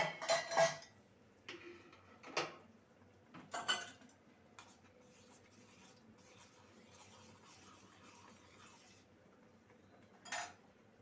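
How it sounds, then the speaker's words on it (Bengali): A spoon stirs milk powder into warm water, a few close metallic clinks and scrapes against the container, then quiet with faint rubbing before one last clink. "তিন চামচ গুঁড়ো দুধ নিয়েছি উষ্ণ গরম জলে একটু গুলিয়ে নেব"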